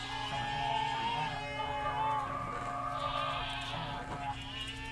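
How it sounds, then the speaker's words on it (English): Goat sound effects play over a game stream, drawn-out bleating cries layered over steady background music, with a person talking at a lower level underneath. "I need to turn down my goat sounds"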